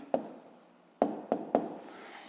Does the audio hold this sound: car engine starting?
no